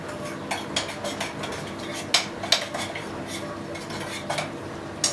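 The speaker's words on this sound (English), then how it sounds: "first she's just gonna mix it up before she puts it onto the stove" Turkish coffee is stirred in a small pot before brewing, a spoon scraping and clinking against the metal in quick irregular strokes, close and clear over a faint background hiss.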